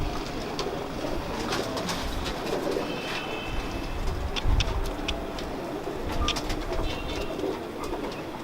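Pigeons coo softly beneath a dense, steady background wash, with faint bird calls scattered through.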